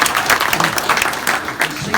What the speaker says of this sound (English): yep, there was applause during my talk